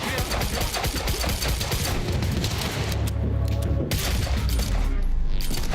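Sustained, loud gunfire in the video game Quantum Break, a continuous dense barrage of rapid shots with booming impacts, close and unbroken.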